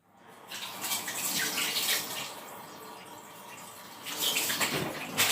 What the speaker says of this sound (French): je vais me laver les mains